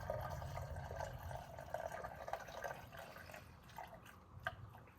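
Water trickling and dripping as it fills the cooling system of a Honda Civic with an overheating problem, a steady low wash with scattered drips, fairly quiet and close, no talking.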